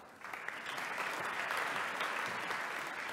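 At an academic anniversary ceremony in a university hall, the audience gives doctoral graduates a sustained round of applause, an even, somewhat distant rustle of many hands that rises quickly and holds steady.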